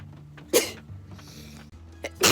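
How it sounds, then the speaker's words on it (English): Two sharp sneezes burst out loud and close, one early and one at the end, separated by a quiet stretch of low room hum and faint sniffing, during a bout of allergy-season sneezing. "Just gotta sneeze again."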